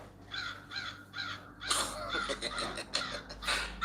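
A crow cawing outdoors: three evenly spaced caws, then a busier run of overlapping harsh calls, fairly close and clear with no speech.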